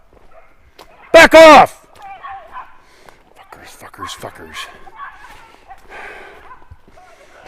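Dogs fight on a walking trail, with sharp snarling barks, yips and whimpers bursting close by amid scuffling. Someone shouts loudly at them once early on, and the growling commotion continues underneath.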